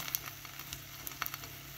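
Puff pastry (milföy) frying in a pan with a little oil, a soft continuous sizzle dotted with small crackles and pops, faint and close, with no voices.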